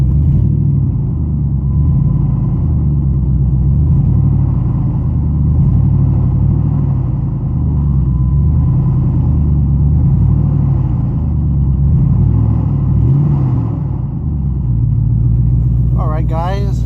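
Engine of a 2005 Jeep Grand Cherokee idling and revving in steady, low rumbling pulses, close and loud, with a few slight swells in pitch but no sharp climbs.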